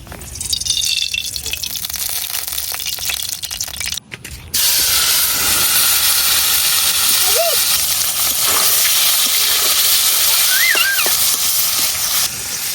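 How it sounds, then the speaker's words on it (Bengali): Taki fish sizzle and hiss steadily in hot oil in a wok, loud and continuous after a brief quieter start, with a few faint high chirps in the background. "এখন মাছগুলা ভাজা নেওয়ার লাগে আমি দিয়ে দিতেছি কড়াইয়ে তেল"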